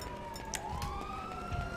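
A police car siren in Grand Theft Auto Online wails with a slow rising and falling tone, fairly distant and steady, over game ambience with a few faint clicks.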